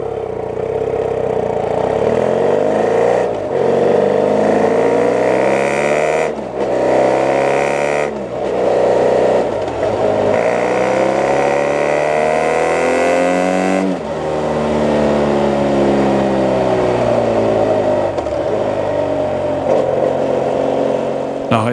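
A motorcycle engine captured by a Shure SM11 microphone mounted on the bike and feeding a GoPro Hero 3, roaring loud and close as it revs up and down repeatedly, with sweeping pitch rises and drops between gear changes.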